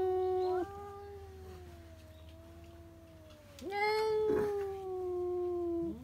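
A cat meows in long, drawn-out, wailing cries, two extended calls with a rising yowl partway through, close and fairly loud.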